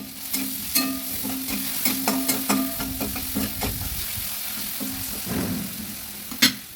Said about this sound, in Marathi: आता हे मिश्रण आपण तेलात चांगले परतून घ्यायचे आहे।